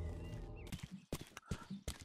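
Horse hooves clip-clop in Grand Theft Horse, a few quick, close knocks spaced unevenly over a couple of seconds, fairly quiet, with a short tonal squeak between them.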